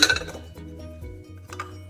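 A metal saucepan clinks and rattles briefly as it is set down, followed by a soft scrape.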